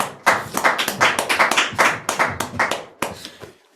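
A small group claps for a frame drum player, distinct individual claps that build quickly, hold for a few seconds, then thin out to a few last scattered claps before stopping.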